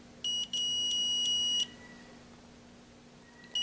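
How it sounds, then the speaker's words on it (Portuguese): Multimeter continuity tester beeping while probing capacitors on an NVIDIA GeForce 9400 GT graphics card, two steady high-pitched tones, one short and one longer, followed by a brief third beep starting at the end, close and clear over faint background hum. "Aqui seria normal bipar do outro lado porque é o terra."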